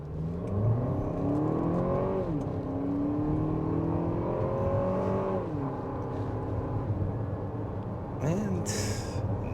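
A Lexus TX 350 accelerates from a stop to about 60 mph, its engine tone rising smoothly through gear shifts inside the cabin, fairly subdued and continuous with someone speaking over it.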